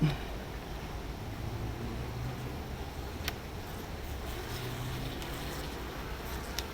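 Honey bees buzz around an opened hive as frames are lifted out, a faint steady drone with low background hum and a couple of small clicks.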